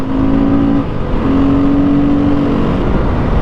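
A Beta 430 motorcycle engine drones loud and close while riding off-road, holding a steady high revving note with a brief dip before climbing again.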